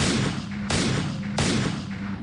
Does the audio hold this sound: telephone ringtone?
no